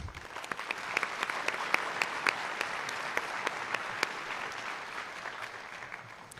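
Applause from a crowd at a high school graduation, many hands clapping steadily at a moderate distance, with faint background murmur.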